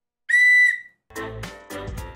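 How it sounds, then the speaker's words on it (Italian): A cheap Temu compass gadget gives one short, bright whistle that tails off slightly, followed by faint rustling and handling noises. "Vediamo se almeno fischia."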